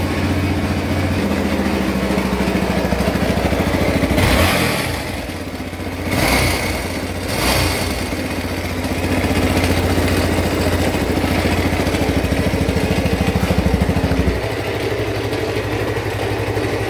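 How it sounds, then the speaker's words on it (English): A kickstarted 125cc four-stroke motorcycle engine with a rattle runs steadily up close, briefly dipping and picking up a couple of times midway before settling back into an even, busy idle. "there's a bit of a rattle coming from the engine"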